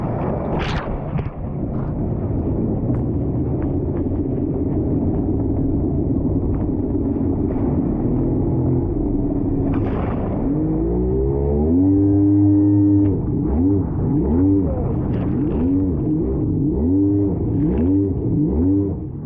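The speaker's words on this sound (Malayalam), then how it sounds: "ഇനി നേരെ ജെറ്റ് റൈഡിന് പോവാണ്" Loud, continuous engine drone of a jet ski in Thailand, rising and falling in pitch as it revs and surges, with water rushing beneath; no talking.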